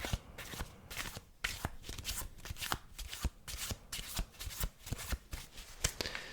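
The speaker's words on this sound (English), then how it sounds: "We just love the sounds of playing cards." Playing cards shuffled close to the microphone, with rapid riffling bursts, sharp snaps and soft taps repeating in a steady rhythm for several seconds, with no talking.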